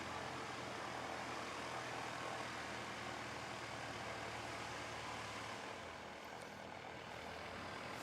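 An airplane takes off from the runway at Christchurch International Airport, its engines a steady, loud, broad roar throughout, easing slightly as it climbs away.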